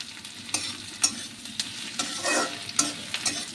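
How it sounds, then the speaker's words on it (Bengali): Onions and black cumin fry in a pan, a close sizzle punctuated by quick rhythmic spoon strokes and scrapes about every half second. "পেঁয়াজটা যখন একটু হালকা হালকা ভাজা হচ্ছে, এই সময় আমি কালো জিরেটা দিলাম"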